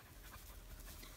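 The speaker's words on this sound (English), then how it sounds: "excuse the dog" Dog panting steadily and close by, a continuous breathy rhythm filling the short moment outdoors on a smallholding, with no talk over it.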